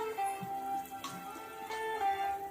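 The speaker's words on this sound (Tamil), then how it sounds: "இப்போ மசாலா நல்லா கொதிச்சு வருது" Thick masala fish curry gravy bubbling and simmering in a pot, soft irregular pops and blips over a low steady hiss, close by and fairly quiet.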